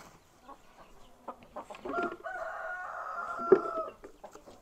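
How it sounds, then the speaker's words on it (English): Leghorn hens disturbed during egg collection, clucking and squawking in a rising, agitated run of calls close by, with a sharp peck or bump near the end. "These leghorns seem to be the ones that peck the most when you go for the eggs."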